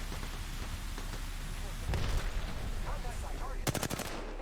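Gunfire in the battle royale shooter Apex Legends: a rapid burst of automatic shots near the end, with scattered distant shots and impacts before it over a constant game rumble.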